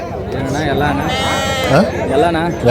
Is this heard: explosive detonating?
no